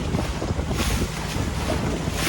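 Strong wind gusting across a bay from a boat, a loud continuous roar of buffeting microphone noise with water sounds beneath, swelling slightly midway and never letting up.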